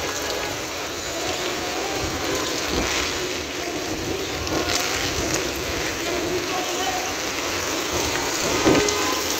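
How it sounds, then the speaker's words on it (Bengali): Heavy rain during Cyclone Remal storms down steadily, a dense continuous wash of downpour and gusting wind close by, with faint talk partly buried underneath. "প্রচণ্ড বৃষ্টি, প্রচণ্ড ঝড় হচ্ছে।"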